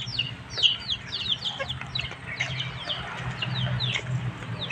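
Chickens cluck and chirp in a backyard setting, repeated short calls at close to moderate range, with faint ambient noise and occasional higher peeps throughout.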